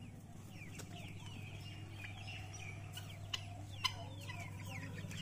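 Chickens cluck and chatter on a desi poultry farm, with several birds calling over a steady low background hum and an occasional sharper squawk.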